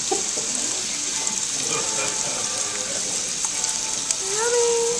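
An omelette with Italian sausage and cheese sizzles on a buffet griddle, a steady frying hiss under faint clinks and distant voices.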